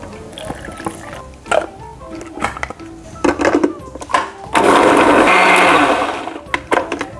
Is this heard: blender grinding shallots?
yes